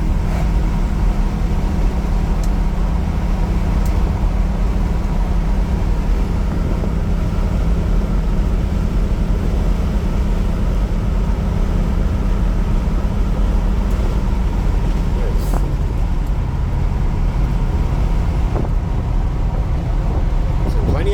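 White 1965 Ford Mustang coupe with a 289 V8 and automatic transmission cruising along a road, its engine and road noise a steady low drone from inside the car, with a voice talking over it.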